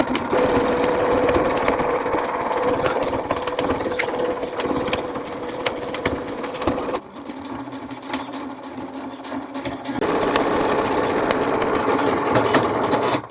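A domestic sewing machine stitches bias binding around the edge of a baby's beach poncho, a close, steady buzzing run that drops off briefly midway before starting up again at full speed.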